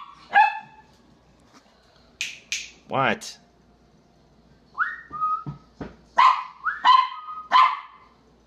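A dog gives a handful of short, sharp barks on command, spread in spaced bursts, with a person briefly speaking nearby.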